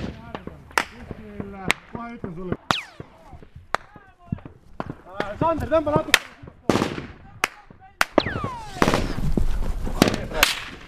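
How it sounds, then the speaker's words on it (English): Gunfire rings out in a firefight between Estonian and British soldiers and the Taliban, with sharp single shots and short bursts at irregular intervals, some close and loud, some more distant, amid faint voices. "The Estonian soldiers are quick to react and begin to return fire."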